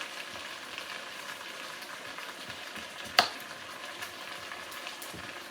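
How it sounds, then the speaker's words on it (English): Sausages and vegetables sizzling and crackling steadily in a hot pan, with a sharp clatter partway through. "while that mix is frying off"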